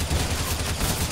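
Rapid pistol gunfire in a shooting video game, a dense burst of closely spaced loud shots filling the whole short stretch.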